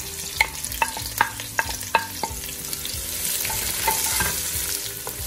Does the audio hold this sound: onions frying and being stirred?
yes